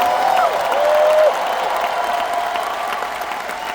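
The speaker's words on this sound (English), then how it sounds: "Clap your hands and shout if you actually believe this is possible." A large church-style event audience in Edmonton claps and shouts together, a dense steady wash of applause with a rising cheer near the start, fairly loud throughout.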